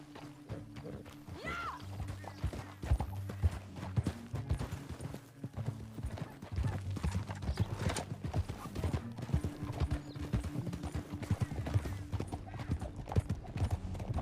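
Hooves clip-clop in a steady galloping rhythm as a horse is ridden through a canyon in a story-mode video game, close and continuous with a brief whinny and a low engine-like drone underneath.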